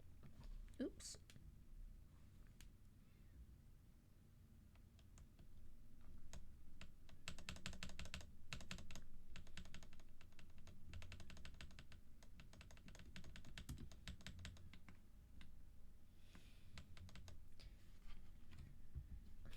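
Keys clack steadily on a custom-built mechanical keyboard fitted with new keycaps, a close, fast patter of crisp taps with brief pauses and denser bursts, and a little speech at the start.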